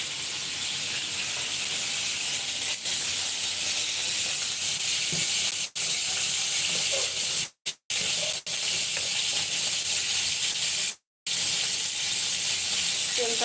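Cumin seeds sizzling in hot oil for a jackfruit dish, a loud steady hiss of frying that runs continuously with a few brief dropouts.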